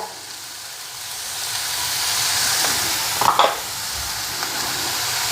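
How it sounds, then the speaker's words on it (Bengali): Coriander and cumin spices go into a hot pan and fry, giving a steady sizzling hiss that swells briefly with a sharper crackle near the end; no one speaks. "এখন মশলাগুলিও দিয়া দেব এটা হচ্ছে ধন্যা ধন্যা বেশি দিব না অল্প আর জিরা"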